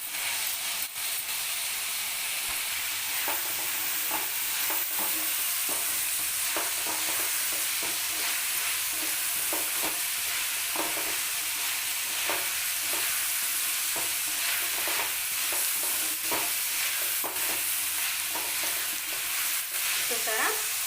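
Sweet corn and capsicum stir-fry for noodles with a loud, constant sizzle and hiss, punctuated by repeated scraping stirs of a spatula, close up and with no talking.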